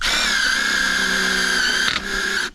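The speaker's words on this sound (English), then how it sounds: "And then we'll put a couple screws in it." Cordless power drill driving a couple of screws into a form wall for a DIY pool build, a steady high whine running close and loud for about two seconds before a brief stutter and a final short burst.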